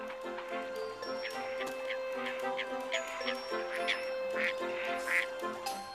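Water birds out on ice on a cold winter night quack in a busy, overlapping chorus, repeated nasal calls at moderate distance over a steady background with faint ticking.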